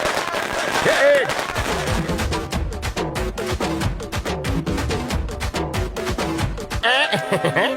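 Rapid bursts of firecracker-like pops crackle over a loud, busy music track, ending with a brief swell of noise.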